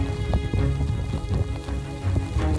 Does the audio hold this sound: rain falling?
yes